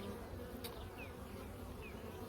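Honeybees buzzing in an open double hive, a dense, steady drone that carries on without a break, with a few brief higher whines from individual bees passing close.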